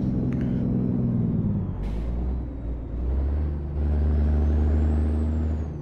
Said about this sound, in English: Braked a little too hard right there